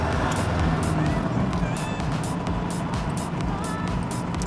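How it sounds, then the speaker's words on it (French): A Peugeot pickup's diesel engine runs steadily and close, a continuous gruff rumble that stays at an even, fairly loud level throughout. "un bon diesel qui fait un bon bruit de diesel"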